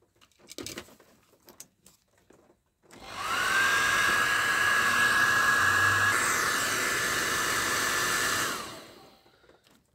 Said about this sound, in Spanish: Lo vamos a secar con el secador.